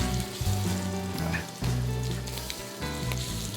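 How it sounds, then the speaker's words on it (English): Steady crackling sizzle of shrimp frying in olive oil in a hot pan, with bursts of popping and a low hum underneath; no talking. "You gotta hear that sizzle."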